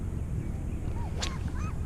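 A few short duck quacks sound near a fishing boat during March bass fishing, brief calls rising over a constant rumbling background of wind and water noise.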